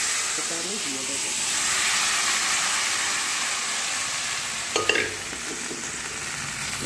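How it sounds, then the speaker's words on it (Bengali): Boiled vegetables dropped into a pan of fried neem leaves and spices, giving a steady hissing sizzle with a brief clatter and stirring partway through. "এরপরে দেখুন আমি আমার যে সবজিটা সিদ্ধ করে সেটা আমি দিয়ে দেবো।"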